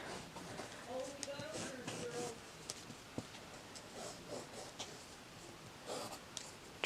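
A pencil traces a design onto paper for a dollar-store eraser stamp craft, giving close, faint scratchy strokes in short bursts, with a person speaking over parts of it.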